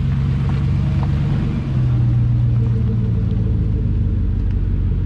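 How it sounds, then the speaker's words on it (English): A dirty Gen 1 Ford Raptor pickup truck pulling up, its engine giving a steady, deep, close rumble that dips briefly and then holds at a constant idle-like drone. "just pulled up this filthy, filthy truck"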